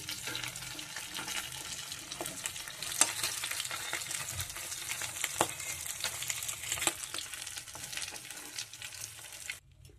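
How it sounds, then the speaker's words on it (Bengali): Tangra fish fry in hot oil in a pan, giving a steady, crackling sizzle with scattered pops and spatters close by, continuing for several seconds before cutting off abruptly at the end. "তো মাছটা প্রথমে ভেজে নিই"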